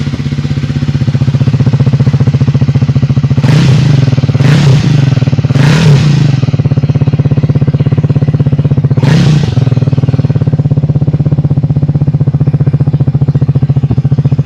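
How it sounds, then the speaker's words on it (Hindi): A Triumph Speed 400 motorcycle idling with a loud, bassy exhaust thrum throughout, broken by four quick throttle blips that rise and fall, recorded close. "इसके एग्जॉस्ट जो है थोड़े से बेसी फील होते हैं, थोड़े से लाउड फील होते हैं"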